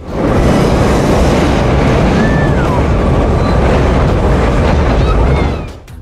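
Old train running along a dangerous coastal railway line in South Africa, built in 1928: loud continuous rumbling and rushing noise with wind buffeting and faint squeals, fading out at the very end.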